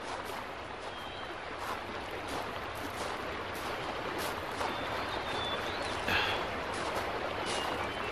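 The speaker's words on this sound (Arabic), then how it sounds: "أتسمع صوت خرير المياه؟ نعم، صوت النهر الأبيض." The White River rushes in a steady broadband flow, loud and continuous, heard in a drama series scene with no voices over it.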